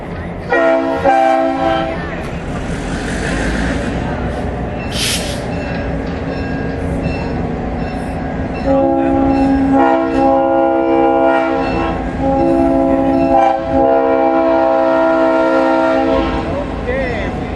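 Horn blasts from diesel locomotive 1605 sound loud and close during a diesel days parade, with several sustained chords of varying length over rumbling engine noise and faint background talk.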